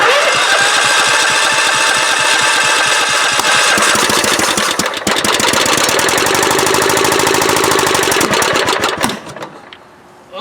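A Scotts lawn tractor engine, newly swapped, cranks over repeatedly with a fast chugging rhythm, laboring loudly without catching, then winds down and stops.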